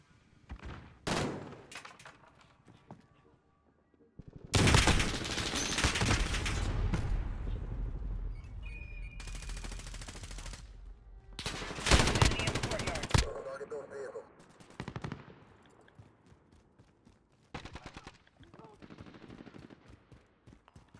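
Video game gunfire rattles in sustained loud bursts of automatic fire mixed with scattered single shots and blasts, near and dense, with some quieter gaps between exchanges.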